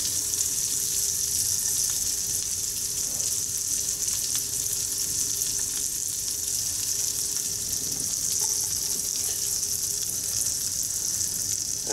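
Red pepper poppers dipped in egg white sizzle and fry steadily over a campfire, a loud continuous crackling hiss with no pauses and no voices.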